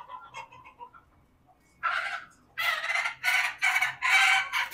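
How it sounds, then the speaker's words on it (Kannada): Native chickens on a poultry farm, with a rooster crowing loudly in several bursts over the second half after softer clucking at the start. "ನಾಟಿ ಕೋಳಿ ಇದಾವೆ ಇಲ್ಲಿ."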